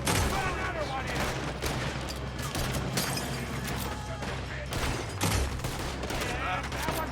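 Dense video-game gunfire during a Red Dead Redemption 2 train robbery, rapid overlapping shots and booms cracking nonstop over a low rumble, loud and close throughout the whole stretch.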